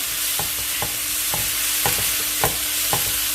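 A spoon scrapes a pan in a steady rhythm, roughly two strokes per second, as freshly ground ginger paste is stirred into a frying mixture for apple pachadi. A soft continuous sizzle runs underneath.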